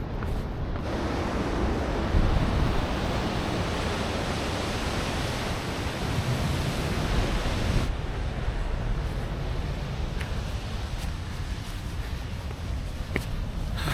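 White water surf breaks on a rocky shore at Robberg Nature Reserve near Plettenberg Bay, a continuous broad roar of waves with wind buffeting the microphone, easing slightly partway through.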